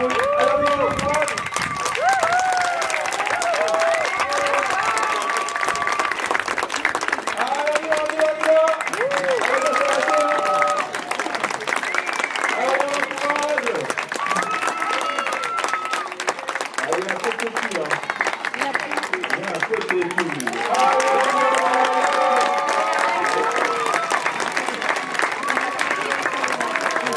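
A crowd at an outdoor bird-of-prey show claps steadily and loudly, sustained applause rolling on for the full length while a presenter's voice keeps talking over it through a microphone.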